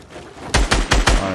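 Enemy sniper gunfire in the video game Fortnite, three or four sharp loud shots in quick succession that echo close and alone, with no talk.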